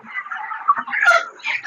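Chickens on a broiler poultry farm cluck and murmur in a brief, close burst of overlapping calls, fairly loud with no other sounds.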